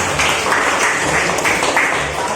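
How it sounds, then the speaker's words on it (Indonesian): Classmates give a brief burst of applause in a classroom, dense clapping that stays steady for a couple of seconds. "Oke, terima kasih tepuk tangan"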